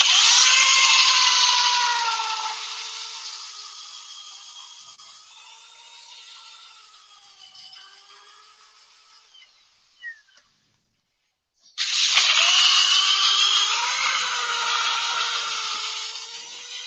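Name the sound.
drill sanding at reduced speed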